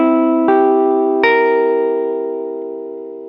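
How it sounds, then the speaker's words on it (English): Guitar strumming a dominant 7 bar chord twice, each strum ringing out loud and sustained before slowly fading, with no talking. "it means that we're playing a dominant 7 chord"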